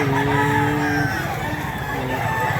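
Gamecock rooster crowing at a cockfighting-bird market, a loud close crow with sustained harmonic calls, set against a busy background of murmuring voices.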